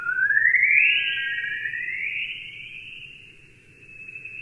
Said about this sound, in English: The sounds you are hearing are made by energetic particles whipping around the Earth's plasmasphere,